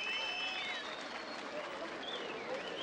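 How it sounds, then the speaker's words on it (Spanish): Crowd applause at a nighttime jaripeo bull-riding event in Opopeo, Michoacán, steady and sustained throughout, with music and faint voices mixed in. "¡El aplauso!"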